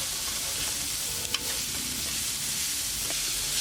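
Boiled urad dal is stirred and roasted in a pan, making a steady, fairly quiet sizzling hiss with a couple of faint scrapes from the stirring.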